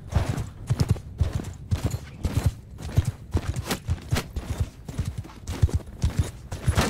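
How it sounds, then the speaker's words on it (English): Mounted horse archers in the video game Mount & Blade 2: Bannerlord, their hooves drumming in a fast, steady galloping rhythm that stays close and loud for the whole stretch with no talk over it. "That's 55 horse archers."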